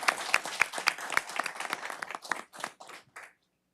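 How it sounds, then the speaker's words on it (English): A round of applause at a city council meeting, with a small group clapping distinct, fairly close hand claps for a few seconds before it thins out and stops. "let's give him a round of applause."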